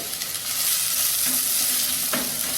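Loud, continuous sizzling of onions frying in oil until brown for ridge gourd sambar, with a spoon scraping the pan now and then.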